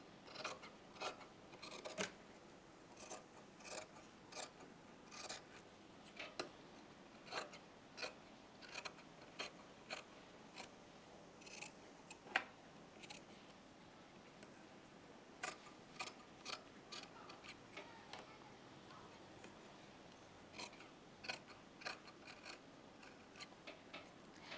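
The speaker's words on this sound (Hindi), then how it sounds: "अंदर वाले कपड़े को कट कर लेंगे।" Scissors snip through the inner fabric of a loose-fit umbrella kurti, trimming just beyond the stitched neckline seam. Crisp, close cuts come in irregular bursts with short pauses between them, and no one speaks.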